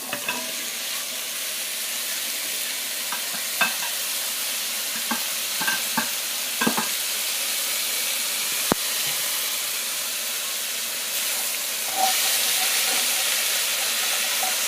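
Okra for gumbo fries in a pan with a steady, close sizzle, marked by occasional light clicks and taps of stirring, no voices.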